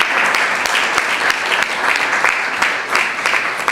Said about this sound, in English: let's give them another hand of applause